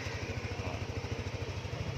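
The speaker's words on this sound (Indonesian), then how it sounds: "Kita nyalain mesinnya ya." A Yamaha NMAX scooter engine runs at idle with a quiet, rhythmic low puttering pulse, steady and close.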